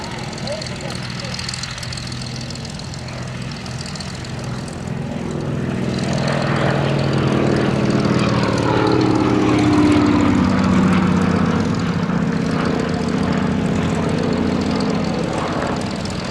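A Lockheed 12A Electra Junior twin-engine propeller aircraft flying at the Duxford Battle of Britain Airshow, its droning engines swelling louder midway as it passes, with a commentator talking over it.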